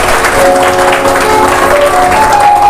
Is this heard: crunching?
no